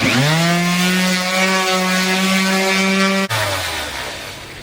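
A power sander running steadily on a wooden bowl during restoration, a loud, close, sustained motor whine that cuts out abruptly and winds down.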